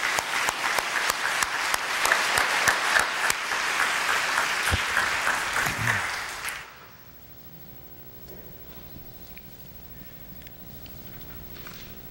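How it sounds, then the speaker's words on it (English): Loud applause from a sizable audience at a talk by an imam for several seconds, then it cuts off abruptly, leaving a quiet room with faint low hum. "Let's give the Imam a round of applause."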